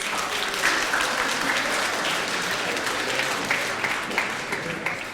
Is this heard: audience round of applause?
yes